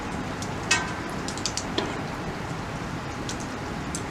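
Rain falling outdoors as a soft, even hiss with a few scattered drips and taps close by, fairly faint and without talk.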